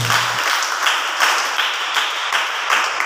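A crowd at a prayer meeting claps loudly and continuously in dense, even applause with faint rhythmic swells and no clear voices on top.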